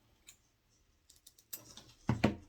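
Scissors snip through fabric pieces being cut out for a dress, giving a few quiet, crisp clicks that build to louder closer cuts near the end, with no talking.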